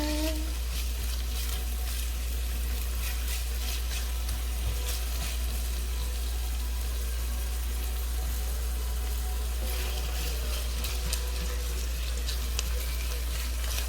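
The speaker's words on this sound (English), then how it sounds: "And we're going to saute this onion." Chopped onion sautéing in a pan for a smothered pork chop dinner: a dense, continuous sizzle with steady crackle close by, holding level throughout with no talk over it.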